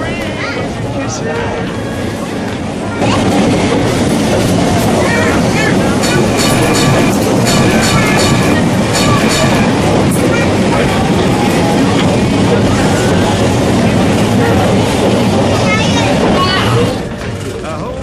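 A Brush electric tram on the Hill of Howth line rumbles steadily along its rails with rhythmic clatter and mechanical hum, voices talking over it throughout.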